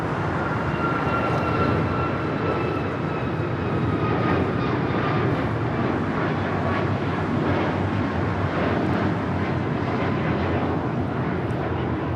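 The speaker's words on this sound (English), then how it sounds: "Green Air Cargo 777 Freighter making that turn onto Alpha 8" A Green Air Cargo Boeing 777 Freighter taxis and turns at LAX, its engines a loud, steady droning roar with a faint high whine, continuous and close, with no speech.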